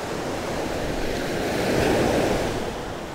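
Ocean waves roll in on a beach during surf fishing, a loud continuous wash of surf that swells midway and eases, with wind noise and no talking.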